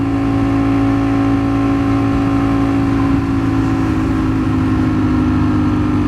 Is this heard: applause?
no